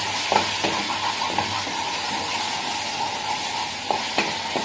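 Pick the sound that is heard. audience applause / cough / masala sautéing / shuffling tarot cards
masala sautéing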